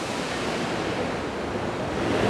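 Waterfall along the Jeju Olle Trail, a steady broadband roar of falling water that stays loud and constant without pause, with no talk over it.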